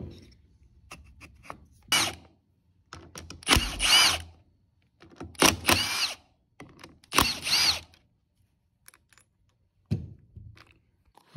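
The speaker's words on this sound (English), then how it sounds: "then take our bolts out and start splitting our transmission" Bolts being removed from a Polaris Ranger 570 transmission case, heard as several short bursts of a power drill or impact driver with ratcheting clicks between them and quiet pauses, close and fairly loud.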